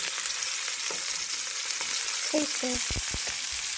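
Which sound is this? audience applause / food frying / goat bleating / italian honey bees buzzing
food frying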